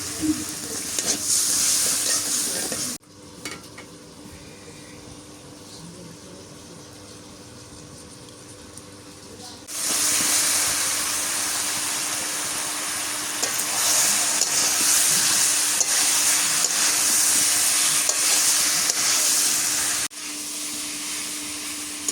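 Pointed gourd with turmeric, salt and green chillies is sautéed for a fish curry, giving a loud frying sizzle with stirring scrapes that drops off briefly, then returns strongly.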